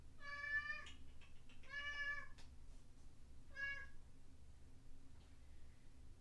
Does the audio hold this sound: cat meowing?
yes